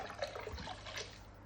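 Vodka poured from a nearly empty bottle into a pot for a Bloody Mary roast lamb, a brief soft liquid trickle and splash close by, no talking.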